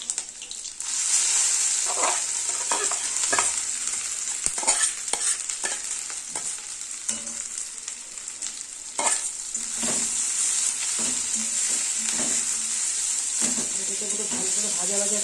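Grated taro frying in hot oil in a pan as it is stirred: a continuous bright hiss of sizzling under repeated scraping and clattering spatula strokes throughout, close and fairly loud.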